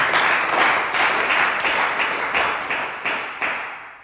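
A church congregation applauds at a prayer retreat, steady rhythmic clapping with regular accented beats, fairly loud and continuous, gradually thinning toward the end.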